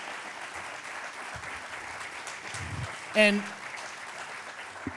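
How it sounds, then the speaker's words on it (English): Audience applause for presenters at an evening talk and musical tribute event about a bandleader, a steady clapping crowd filling the room for several seconds, with a voice briefly speaking over it. "Let's give another round of applause for our presenters tonight."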